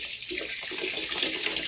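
Water gushes steadily from an opened tap in a home laundry area, a continuous bright hissing splash with no break.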